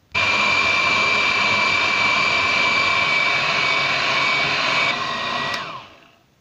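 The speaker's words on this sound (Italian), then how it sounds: "Lavorate il tutto con le fruste elettriche." An electric hand whisk whips cold cream in a bowl with a loud, steady high-pitched motor whine that runs constantly for several seconds before winding down and stopping, with no voices.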